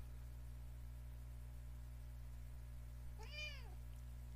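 A single short meow from a small cat rises and falls once near the end, fairly clear over a constant low electrical hum in a quiet indoor room.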